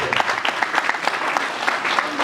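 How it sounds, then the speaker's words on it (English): Conference audience applauding the panelists at the close of a session, a short burst of brisk, steady clapping from a moderately sized crowd. "Will you give them a round of applause?"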